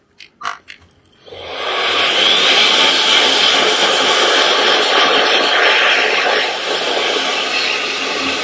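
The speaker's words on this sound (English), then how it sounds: "Just use the blower itself." A Nitecore BB2 electric camera dust blower starts with a few clicks and handling taps, then blows a loud, steady rush of air close by for several seconds, its tone wavering slightly and dipping briefly near the end.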